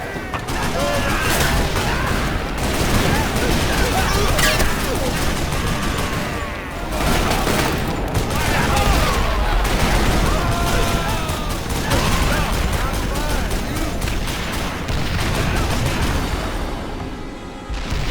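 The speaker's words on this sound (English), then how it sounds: "Ray, take the other Gatling gun!" Gatling gun fire in the Western shooter Call of Juarez: Bound in Blood, a dense, continuous roar of rapid shots and booming battle noise lasting throughout, loud and close, with voices faintly mixed in.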